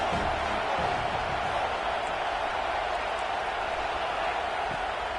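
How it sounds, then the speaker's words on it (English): A large crowd roars steadily in a stadium in the college football video game NCAA 26, a dense wash of cheering that holds constant throughout. "These fans are going absolutely nuts."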